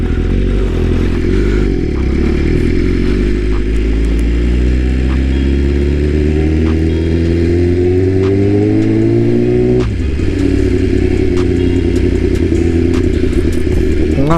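BMW motorcycle ridden on the road, engine droning loud and steady with a rising pitch that drops at a smooth gear change before climbing again, with wind noise throughout.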